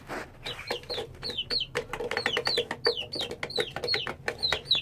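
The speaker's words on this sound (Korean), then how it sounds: "아침 6시만 되면은 밥 달라고 삐약삐약 거린답니다" Six-week-old Shamo chicks peep over and over, a busy, close stream of bright chirps overlapping one another at a steady loud level, with no voices.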